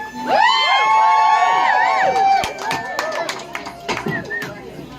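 A small live audience at a comedy and variety follies show whoops and cheers in loud, overlapping voices, followed by scattered applause.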